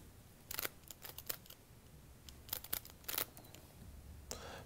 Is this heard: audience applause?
no